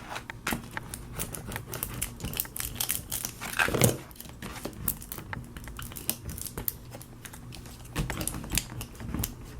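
Close, crinkly rubbing and scraping while a vinyl decal is burnished onto a wine glass, with irregular clicks and taps scattered throughout and a brief louder scrape partway through.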